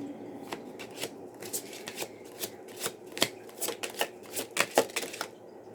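Tarot cards being shuffled by hand, a quick irregular series of soft riffling snaps and slaps, close and fairly quiet with no talk.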